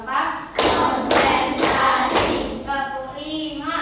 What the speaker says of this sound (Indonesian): Tepuk 1, tepuk 2 bisa kan?